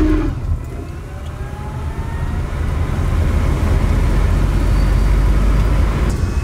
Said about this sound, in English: Then you hear the electric motors kind of whizzing and whining